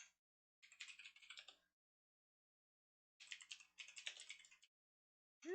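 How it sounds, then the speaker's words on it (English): Quiet bursts of rapid keystrokes on a computer keyboard, two runs of typing separated by a short silence, with no talk over them. "I'm not used to typing on this keyboard anymore."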